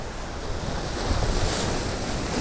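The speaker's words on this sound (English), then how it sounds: "Maybe there's two waves coming up here." Ocean surf breaking on a beach in Aruba, a steady loud wash of waves with a surge building in the middle, with wind buffeting the microphone throughout and no voices.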